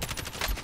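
A short burst of rapid automatic gunfire in an online shooter game, a quick rattling string of shots at moderate level, heard alone with no talking.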